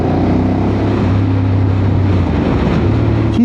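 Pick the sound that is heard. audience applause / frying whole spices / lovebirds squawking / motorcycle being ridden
motorcycle being ridden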